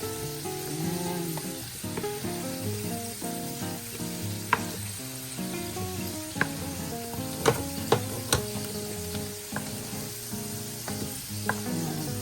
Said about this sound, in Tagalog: pinirito ko muna yung carrots at saka yung potato.